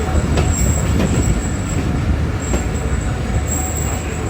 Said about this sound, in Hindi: यहाँ पर 39 ट्रेन को देख रहे हैं।